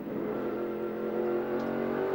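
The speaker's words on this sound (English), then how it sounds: "This will give you an idea of our rev range and the K's being pulled by the Shell FAI Falcon" Shell FAI Falcon race car at Bathurst, its engine droning loud and steady at high revs from an onboard position, a continuous dense roar with no talk.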